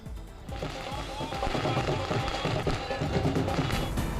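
Firecrackers set off by city residents at a welcome celebration for a world champion kabaddi player in Mandi, a dense crackling burst of rapid pops amid crowd noise and voices.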